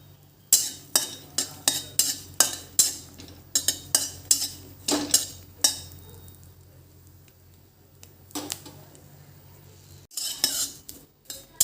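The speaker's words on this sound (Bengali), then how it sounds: "এখন আমি কাঁচামরিচটা আর রসুনটা ভাজা করে নেব।" Green chilies and garlic cook in a pan while a utensil knocks and scrapes against it in a quick run of sharp clatters, then a quieter pause before a few more scrapes.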